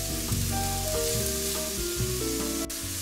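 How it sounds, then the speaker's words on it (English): Mushrooms, sweet potato and rosemary fry on medium-high heat, giving a loud, steady sizzle. A tonal hum with shifting pitch runs underneath, and no one speaks. "I'm cooking this on medium high and letting it sit so it gets nice and crispy."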